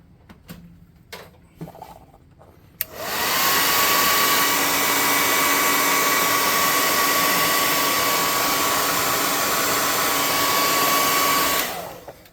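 A hair dryer blows steadily for about nine seconds, drying black paint on the base of a miniature tabletop creature, starting abruptly after a few faint taps and cutting off near the end, loud and close.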